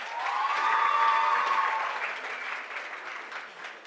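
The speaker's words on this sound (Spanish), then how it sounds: "Aplausos para Danelis." An auditorium audience at a regional oratory contest applauds a contestant, clapping strongly at first and then gradually thinning out, with a brief tonal sound over the early part.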